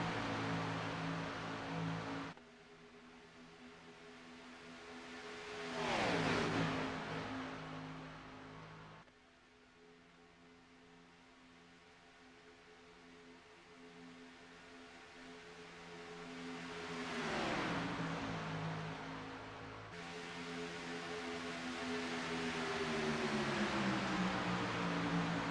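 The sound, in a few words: race cars driving around an oval track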